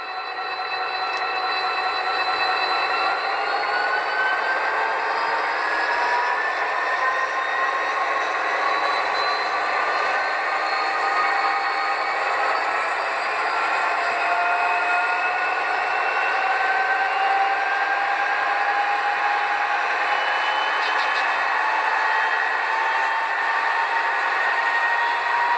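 Sound effects from an HO scale Athearn GP39-2 model diesel locomotive with DCC sound play steadily and loudly throughout, a continuous layered engine drone with no talking.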